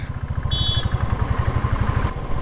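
A motorcycle engine idling in a traffic jam near a rail crossing on the road out of Siliguri, with a low, steady throbbing pulse and a brief higher whine partway through.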